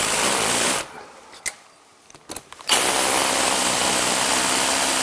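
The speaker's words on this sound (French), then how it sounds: "Je perce dans le linteau en béton." A power drill bores into a concrete lintel while fitting a sectional garage door frame, whining loudly and steadily in two bursts separated by a short pause with a few clicks.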